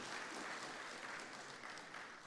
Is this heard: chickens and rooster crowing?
no